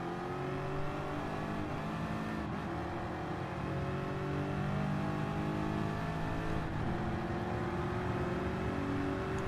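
Car engine revving steadily in a Gran Turismo drag race, a modern-modified old muscle car, with a continuous loud engine drone and rising harmonic tones throughout, no voices.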